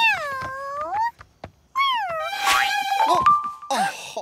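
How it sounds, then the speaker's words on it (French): Cartoon cat meowing in a French animated Halloween episode, a series of clear, loud melodic meows with rising and falling pitch, some drawn out, with a short pause midway and a faint jingle near the end. "Oh, quel joli petit chat."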